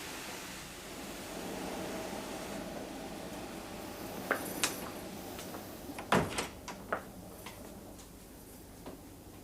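An interior door under a steady background hiss, with a few sharp metallic rattles and clicks of the handle midway, one louder clunk as the latch gives, then lighter taps as the door opens.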